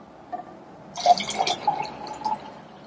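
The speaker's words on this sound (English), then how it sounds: "So what I need to do next is add some water," Cold water is poured into homemade lemonade in a brief, faint pour of light splashing and trickling that starts after a second of near silence.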